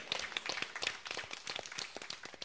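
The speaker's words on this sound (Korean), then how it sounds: "우리 주님 앞에 감사의 박수 올려드리십시오" A church congregation claps in thanks during a service, a fairly faint burst of many hands clapping unevenly for a couple of seconds.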